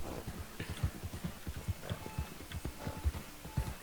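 Horse hooves in the game Red Dead Online clip-clop in a steady trotting rhythm, moderately loud and close, with faint ambient background and no talking.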